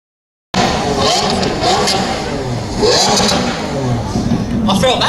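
A very torquey supercar engine revs hard during a rev-off at the Wilton House Classic and Supercar parade, giving loud, close, rising and falling bursts of engine noise over crowd murmur and voices.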